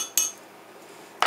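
A spoon stirring matcha green tea in a cup gives two short, bright clinks against the rim, separated by a quiet pause.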